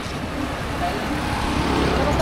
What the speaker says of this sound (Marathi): गाडी येते मागना